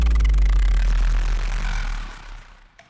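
A Heavyocity Gravity 2 synth sound hits as a loud, deep booming low rumble with a gritty textured top, decaying over about two seconds, alone.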